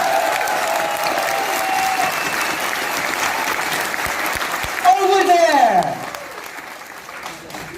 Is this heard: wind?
no